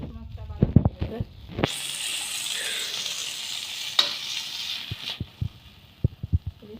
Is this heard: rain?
no